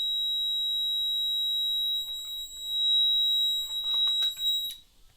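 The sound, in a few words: home security alarm triggered by gas sensor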